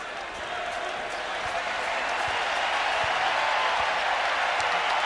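A basketball arena crowd roars and applauds on its feet after the Arizona Wildcats clinch the Big 12 championship against Iowa State, a loud, sustained wall of cheering with scattered sharp claps and thumps throughout.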